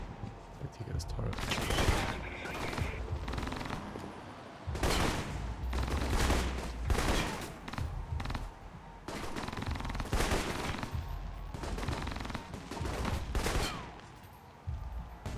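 A turret in the video game Alpha Protocol fires in long, loud bursts of rapid automatic shots, broken by brief pauses, with a voice talking underneath.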